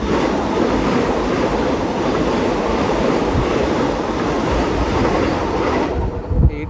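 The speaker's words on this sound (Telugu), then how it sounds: "ఇప్పుడే అలా అన్నానో లేదో వచ్చేసింది ట్రైన్. కోయంబత్తూర్ చెన్నై సెంట్రల్ వందే భారత్." The Coimbatore–Chennai Central Vande Bharat Express pulls into Tiruppur station with a loud, steady rumble and rattle of wheels on rails that carries through the whole stretch before easing off at the end.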